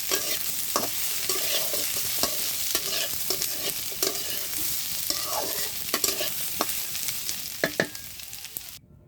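Potatoes fry in a pan with a continuous hiss of sizzling oil, broken by repeated scrapes and clicks of a spatula stirring them, with no one talking.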